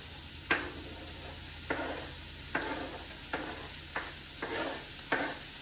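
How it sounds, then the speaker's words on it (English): Mushrooms sautéing in a pan for a crustless quiche, a soft steady sizzle broken by about seven regular stirring scrapes against the pan, close and fairly quiet, without talk. "I'm gonna go ahead and put the mushrooms in too. And just saute it all together."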